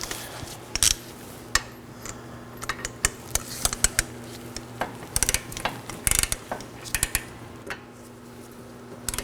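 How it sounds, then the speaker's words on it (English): A torque wrench tightens the front brake caliper bracket bolts to 111 foot-pounds on a 2018-2024 Chevrolet Equinox, giving close, irregular ratcheting clicks and metallic taps over a steady low background hum. "Now we're going to torque them down."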